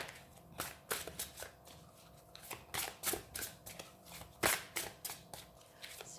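Tarot cards shuffled by hand in quick, irregular riffling bursts, with sharp card snaps and flicks as cards are drawn, close and fairly quiet, no talking.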